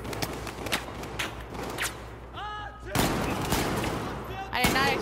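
Battlefield 4 gunfire: repeated sharp rifle shots and bursts of varying loudness, with a louder volley later and a brief voice heard between shots.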